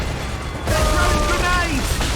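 A warship's cannon volley in the naval game Assassin's Creed Rogue, a sudden loud booming onset after a quieter stretch, followed by sustained rumbling and whistling tones, with crew shouting over it.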